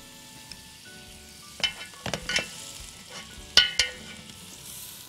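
Butter hits a hot pot and sizzles quietly, broken by several sharp crackles and pops in short clusters, with no talking.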